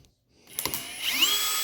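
A cordless drill drives screws into a 14-inch Speed Tech K-Force micro mini light bar, a short rising whir with ratcheting clicks after a quiet start, close and moderately loud with no talk.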